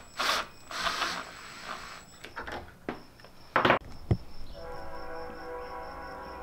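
Ratchet clicks and metallic clanks from tightening bolts on a DIY camper van roof rack for solar panels, a few short bursts close by with quiet gaps and a faint steady hum.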